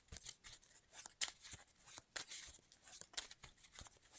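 Cards shuffled in a card video game: quick, crisp papery flicks and snaps in an uneven run, soft and close, with no talking.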